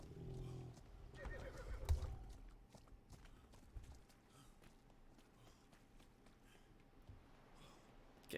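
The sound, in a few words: horse neighing in video game ATLAS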